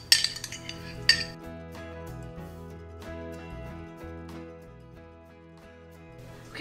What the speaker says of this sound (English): add our pureed peaches. And mix that all together